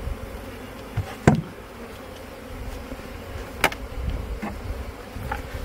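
Honey bees buzz steadily around an open hive, a soft continuous drone with a few louder knocks and bumps near the hive.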